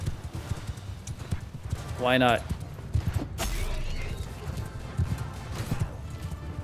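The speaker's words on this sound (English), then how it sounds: "Too many idle horses on the map." Horses trotting in the video game Mount & Blade II Bannerlord: steady clip-clopping hooves under battle noise, with a loud horse whinny early on and someone talking over it.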